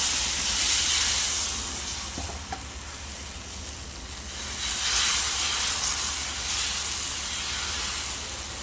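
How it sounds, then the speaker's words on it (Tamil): Dosa batter ladled onto a hot griddle, a broad hissing sizzle that swells and fades in waves, with one faint clink. "ஒவ்வொரு கரண்டியாக மாவு ஊற்றி"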